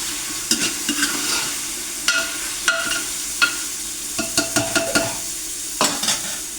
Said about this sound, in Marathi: पाणी सुटून ते सुटेपर्यंत आपण याला परतून घ्यायचं